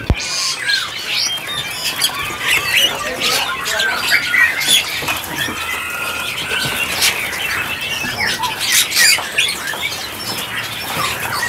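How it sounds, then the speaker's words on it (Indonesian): Male oriental magpie-robins among a large stock of caged birds at a seller's place give dense, overlapping squawks, chirps and whistles. The birds call continuously and fairly close, with faint voices in the background. "Di sini ada burung kacer yang nota trotol."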